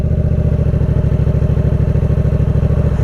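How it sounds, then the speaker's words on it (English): A motorcycle in first gear pulls away under light throttle as the clutch is let out gently, its engine a steady, close, rhythmic low thrum with even pulsing beats throughout and no voices. "Clutch all the way in, first gear, a little bit of throttle, and leave the clutch kindly."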